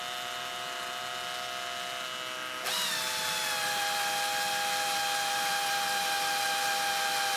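A drill bores into a 16 gauge European guild shotgun part: a steady whine that gets louder and higher when the bit engages partway through and then runs on evenly, close up, with no talking.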